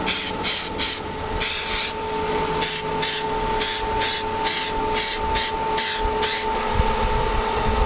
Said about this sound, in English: clean that one with the brake cleaner